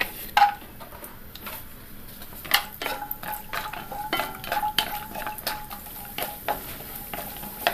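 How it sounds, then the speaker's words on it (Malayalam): Nuts frying in hot ghee and oil for egg biryani, with a steady sizzle under repeated clinks and scrapes of a metal spoon stirring in the pan, close and fairly loud. "അതിലേക്ക് ആദ്യമേ നമുക്ക് നട്ട്സ് ഒന്ന് വറുത്തെടുക്കാം."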